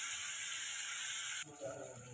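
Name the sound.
broad beans sautéing in a pan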